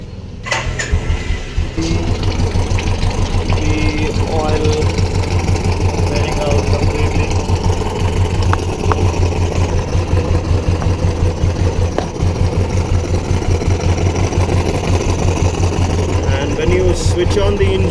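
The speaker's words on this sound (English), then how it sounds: "So now to drain out the complete oil, I'll start my bike for a few seconds." A Royal Enfield motorcycle engine idles steadily during an oil change, a loud, continuous low thumping rumble that holds an even rhythm throughout.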